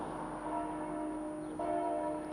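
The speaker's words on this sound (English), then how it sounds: "Oh, can you hear the bells?" Church bells in Germany ring steadily in the distance, faint and sustained tones over a quiet outdoor background, with a fresh strike near the end.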